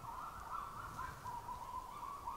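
A male bird sings below the listener at Rivière Bleue provincial park, a faint, distant warbling phrase that rises and falls continuously over quiet forest ambience.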